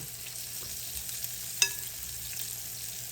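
Quiet, steady sizzle of buttermilk-and-flour-coated pork chops frying in oil, with a soft clink of a utensil partway through.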